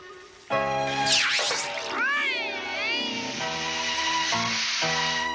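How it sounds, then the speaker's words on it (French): A cartoon cat in a Smurfs episode lets out a loud, drawn-out, wavering meow, then sustained yowling cries, alone and close. "Un chat, où ça?"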